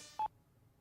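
A single short telephone keypad dialing tone, quiet and clean, with faint background hum around it.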